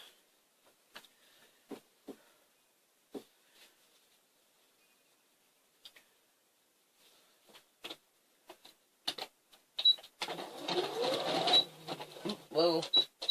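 A sewing machine stitches strips onto a quilt: scattered quiet clicks and taps at first, then a rapid, close whirring run of stitching in the final few seconds.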